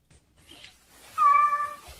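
A cat gives one clear, close meow, short and tonal, after a brief faint sound, with no talking around it.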